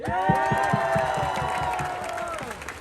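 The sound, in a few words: rally crowd applauding and cheering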